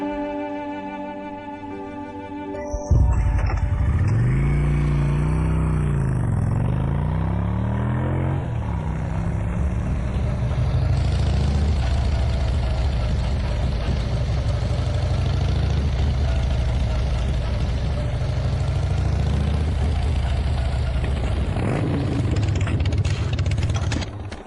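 A repaired motorcycle engine, fixed after running out of oil, starts up after a brief mechanical whir, then settles into a steady, loud, close idle that holds alone until it cuts off at the end.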